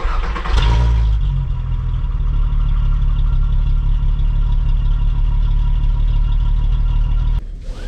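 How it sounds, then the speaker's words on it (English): A VR6 engine in an MK2 Jetta wagon cold-starts with a crank and catch, then settles into a loud, steady, deep idle close by that runs unbroken for several seconds before cutting off abruptly near the end. "Just a nice cold start here."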